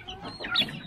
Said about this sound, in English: Where's the chicken?